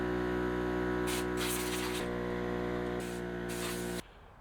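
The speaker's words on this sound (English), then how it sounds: "I'm gonna take some compressed air, blow all that grass out of there" Compressed air hisses in a continuous loud blast while blowing grass clippings out of a lawn mower, with short surging bursts over a steady background hum, then stops abruptly near the end.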